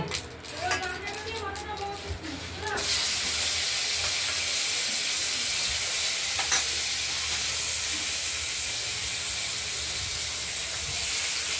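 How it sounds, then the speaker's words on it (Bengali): Potatoes dropped into hot oil for a Bengali koi fish curry set off a sudden loud, steady hiss and crackle that carries on without a break, after a few seconds of someone talking and light kitchen clatter. "আলুগুলো ভাজা হোক"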